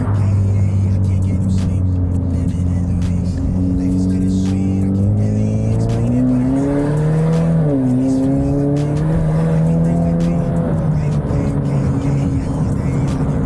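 A Ford Mustang EcoBoost, lowered on Pedders suspension, is driven hard around a corner, its engine droning steadily and rising in pitch as it accelerates, loud and close throughout.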